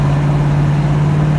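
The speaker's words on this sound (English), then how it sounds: "Engine sounds fantastic." The engine of a 1965 Ford Mustang Fastback runs while driving, giving a loud, steady low rumble with a strong constant hum and road noise, alone and unbroken.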